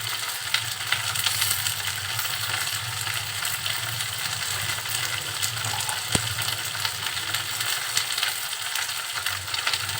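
Masala spices sautéing in a pan for a vegetarian okra dish, a steady loud sizzle and crackle that runs throughout with one sharp click near the middle and no speech.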